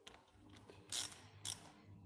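Ratchet wrench tightening bolts on a PRM 160 marine gearbox, two sharp, loud clicking bursts close by against a quiet workshop background with a few faint taps.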